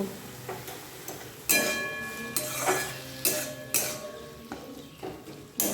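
Pumpkin for a Bengali mashed-pumpkin bhorta stirred in a pan with salt, turmeric and green chilli, bringing a few sharp, close scrapes and knocks of a utensil against metal over faint frying, with quiet gaps between strokes.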